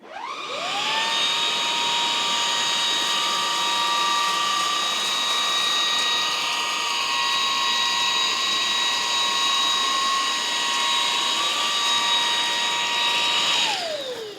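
A Jashen V16 cordless vacuum cleaner on its medium setting runs over thick pile carpet scattered with rolled oats and cracker, spinning up into a steady, loud motor whine that holds for about thirteen seconds before spinning down.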